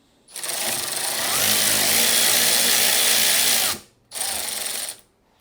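A T20 Torx screw is undone on a Miele washing machine with a powered driver: one loud, close, whirring buzz of about three seconds, a short pause, then a second brief burst.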